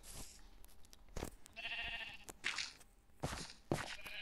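A goat bleats several times in short, wavering calls outdoors in a survival setting, mixed with brief rustling and swishing movements close by.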